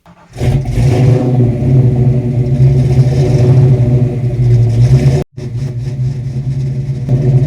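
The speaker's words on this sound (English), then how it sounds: "We're firing up the original 40s first to remind ourselves why we love, and occasionally hate, that raw exhaust thunder." A Fox Body Mustang running original Flowmaster 40 Series mufflers fires up and revs with a loud, deep, raw exhaust rumble. The note holds steady for about five seconds, cuts out briefly, then resumes, close up with no talk.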